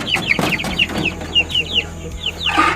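Several free-range village chickens cluck and chirp in quick, close succession, a busy run of short calls over a low background hum.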